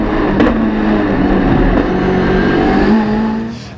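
A heavily modified Nissan S15 Silvia race car with a 2.2-litre 1000 hp four-cylinder SR20 revs hard and loud up close, its engine note rising and dropping through gear changes with automatic throttle blips on downshifts, with no voices.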